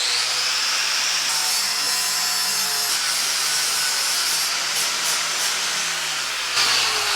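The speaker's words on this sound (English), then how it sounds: "give her the flap wheel treatment" A flap wheel grinds baked-on gasket material off an engine part from a 1967 Volkswagen Fastback. It makes a steady, close, hissing abrasive whir with a few small changes in pitch and pressure throughout.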